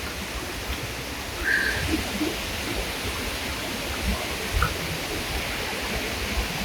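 A river in the Peruvian jungle below the trail to a waterfall gives a steady, even rushing hiss that runs unbroken throughout, with no talk.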